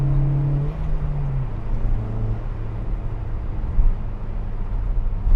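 First-generation Skoda Octavia vRS with an aftermarket exhaust, a steady low engine drone from inside the moving car that drops in pitch after a gear change early on, then cruises on with a deep rumble.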